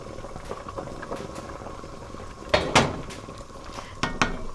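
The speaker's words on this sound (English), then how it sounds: "Now we've got it to a boil" Lima beans and ham with pepper, garlic and bay leaf bubble at a boil in a pot, a faint steady simmer broken by a few sharp clinks of a utensil against the pot.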